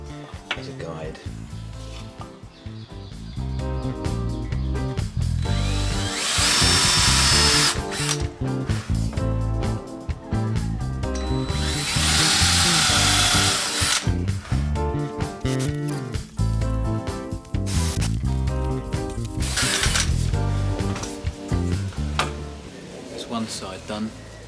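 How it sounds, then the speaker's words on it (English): A power drill countersinks screw holes in wooden legs for a rustic waney-edge coffee table, running in several long whining bursts with pauses and clattering between them. "Now I'm countersinking on the legs where I'm going to put the screws through."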